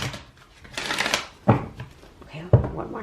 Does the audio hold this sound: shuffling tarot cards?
yes